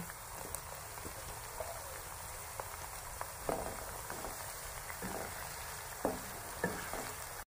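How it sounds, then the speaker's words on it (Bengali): Onions frying in a pan for a home-made Patiala chicken, a steady soft sizzle with scattered clicks and pops, close and moderately quiet, no voices. "পেঁয়াজটা যখন এইভাবে ভাজা হয়ে যাবে"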